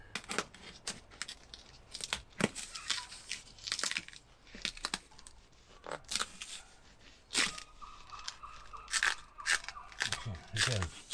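Insulation material is cut and torn while fitting out a Vauxhall Vivaro campervan: a close, busy run of crunching, crinkling snips and rips in irregular bursts, with someone talking quietly between them.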